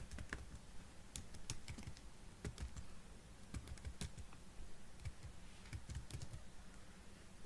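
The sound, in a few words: computer keyboard typing C program code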